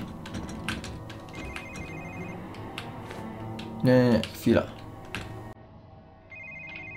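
A telephone rings in the Quantum of Solace video game: faint, repeated electronic ring tones under game sounds, with someone talking over it.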